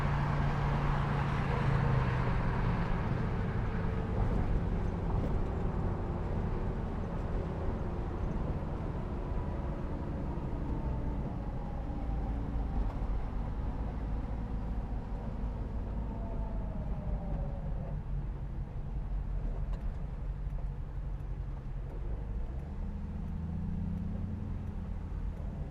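Steady low drone of a Hemi-swapped 1971 Dodge Challenger cruising down the freeway at about 70 mph, engine and road noise continuous and fairly loud throughout, with a slight shift in tone near the end.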